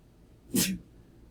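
A single sharp sneeze, brief and close, in an otherwise quiet room.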